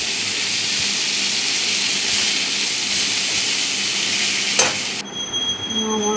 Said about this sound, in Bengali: পটলগুলি ভাজা হচ্ছে।